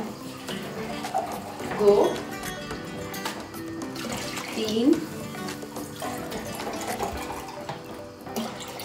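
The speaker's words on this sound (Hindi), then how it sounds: "चार ग्लास मैंने इसमें पानी ऐड कर दिया है" Glasses of water are poured one after another into a cooking pot on the flame while making nihari, with splashing pours heard under a person's voice counting along.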